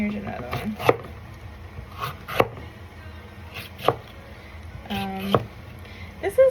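A knife chops vegetables quickly on a cutting board during meal prep for freezing, giving sharp close knocks at irregular intervals over a quiet kitchen background, with a voice talking between the cuts.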